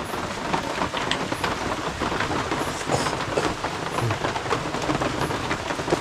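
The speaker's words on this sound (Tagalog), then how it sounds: "Ulan, uy." Steady rain falling outdoors at night, a dense constant patter on surfaces, fairly close and even throughout.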